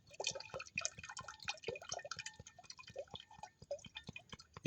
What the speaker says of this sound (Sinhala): මේ විදිහට හොඳට පෙරා ගන්න ඕනේ.